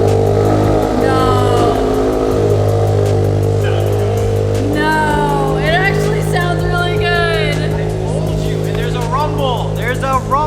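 A 2022 Toyota GR86 with a Greddy Evo GT catback exhaust idles high and steady on a cold start, a loud, even drone close by, while people talk over it.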